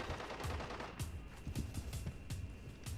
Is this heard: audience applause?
no